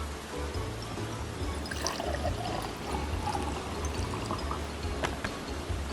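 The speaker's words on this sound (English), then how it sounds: "We're going to take our glass. We're going to fill it with some water." Water pours steadily into a glass for several seconds, a continuous splashing trickle with a low hum underneath.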